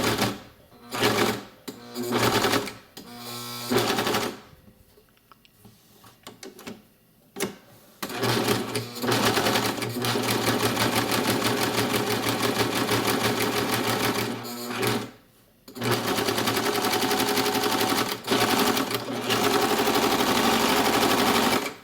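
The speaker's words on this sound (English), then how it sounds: "So I'm simply going to serge this on and attach it in one application to the shoulder seam" A serger stitches athletic tape onto a shoulder seam in loud, rapid mechanical bursts that start and stop several times, then runs steadily for long stretches with a brief pause.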